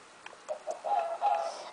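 Brief, short clucks from a couple of Minecraft chickens, soft and close, over a quiet background, with no voices.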